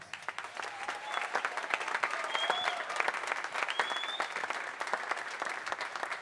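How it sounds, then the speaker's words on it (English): Audience at a high school steel band festival gives a round of applause for graduating seniors, sustained clapping of moderate loudness with a few cheers rising over it. "How about a round of applause?"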